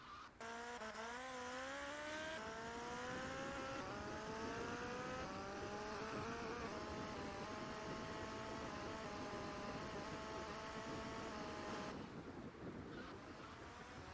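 A car driving in GTA Vice City, its engine note climbing through the gears in rising whines, loud and continuous, with the road roar running on until it cuts off sharply near the end.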